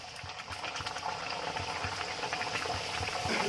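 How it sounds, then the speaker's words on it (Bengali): Food dropped into hot oil, sizzling and bubbling steadily with a dense, crackling hiss that grows slightly louder over the few seconds. "এই যে ঝটপট করে একদম গরম গরম তেলের মধ্যে ছেড়ে দিচ্ছি"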